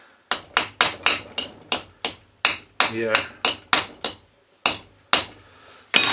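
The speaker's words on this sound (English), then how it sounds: "Give it a clout." Hammer blows strike a Lucas CA45 starter motor part from a Ford Sabre 6-cylinder boat engine, about fifteen sharp metallic clouts in a steady rhythm, close and loud, with one brief spoken word.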